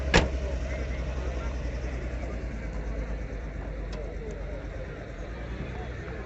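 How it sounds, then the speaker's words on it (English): A classic Porsche Targa drives past at a classic car gathering, a close, steady low engine rumble that holds evenly throughout, with a short sharp click at the start. "A Porsche Targa going past."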